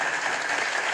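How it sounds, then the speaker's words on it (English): Hand clapping during a livestreamed coworking session, a dense steady patter of claps filling the whole second at moderate level, with no voices over it. "Let me clap it up for the gang."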